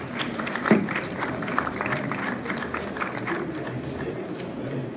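An audience applauding a photographer at a book fair, a steady wash of many hands clapping in a hall, moderately loud with a few sharper claps standing out.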